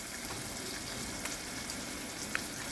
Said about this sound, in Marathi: आता आपण गिलके टाकून घेऊ आणि मंद आचेवर त्याला शिजवत ठेवू